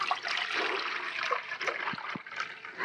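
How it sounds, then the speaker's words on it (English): Hot water pours into a bowl in a steady, close splashing stream of liquid that stays fairly quiet and continuous throughout. "I'm gonna take my hot water and I'm gonna pour it into a bowl."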